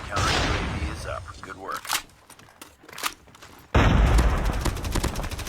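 Rapid gunfire from a weapon in Call of Duty Mobile: a burst of shots at the start, scattered shots and thumps through the middle, then a loud sustained volley at the end.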